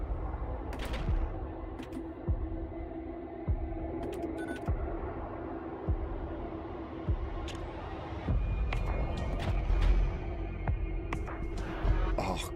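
Bolt cannon shots in the Warhammer 40k starship game Void War, hammering at enemy shields: a string of sharp, evenly spaced impacts about every second, each a quick broadband crack over a steady humming ship-interior drone, mid-distance and fairly loud.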